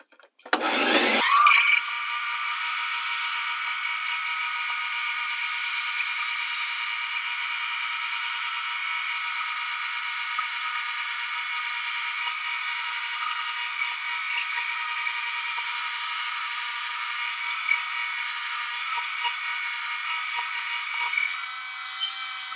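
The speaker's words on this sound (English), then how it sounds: "we're going to drill down until we hit that stopper there" A steady, high-pitched machine whine runs continuously after a brief thump at the start, with small fluctuations, as a drill bores into a Storm Phaze V bowling ball.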